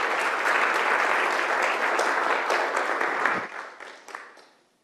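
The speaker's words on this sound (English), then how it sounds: "Let's give him a round of applause." Audience applause at an education summit on personalized learning, a steady dense wash of clapping from a large crowd that holds strong for several seconds and then tapers off to silence.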